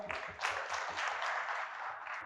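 Audience applause for a poet at a Gujarati poetry gathering, a steady dense wash of clapping from a seated crowd, moderately loud and sustained throughout with no talk over it.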